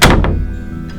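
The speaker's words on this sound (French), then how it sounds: "Ouvrez la porte." A door in a chalet opens with a single solid thunk at the very start, followed by a low lingering resonance and a faint soft knock near the end.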